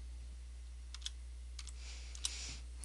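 Keys on a computer keyboard are tapped in a few short, quiet bursts of clicks, with near-silent gaps between them and a low steady hum in the background.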